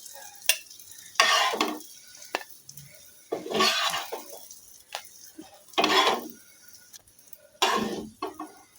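Egg-coated bread slices fry in a pan, sounding as repeated bursts of sizzling and scraping as they are moved and turned, with short quiet gaps and light utensil taps between.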